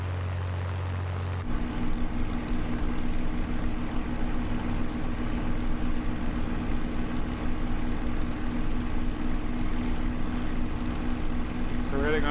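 Airbus A321 airliner engines in a flight simulator game, a steady droning hum that starts abruptly and holds at an even level, with someone speaking over it.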